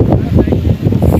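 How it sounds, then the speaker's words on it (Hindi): Sea wind at Jumeirah Beach blowing steadily across the microphone as a continuous low, rushing roar with gusty swells throughout, close and fairly loud, with no talking. "इतनी मज़े की हवा चल रही है ना, फ्रेश हो गया बिल्कुल"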